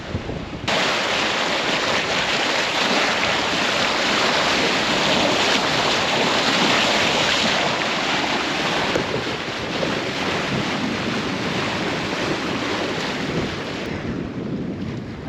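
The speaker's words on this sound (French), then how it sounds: "On glisse sur l'eau." A sailboat gliding along at about six and a half knots under sail, heavy wind buffeting the microphone over a constant rush of water and waves against the hull, loud and steady throughout with no speech.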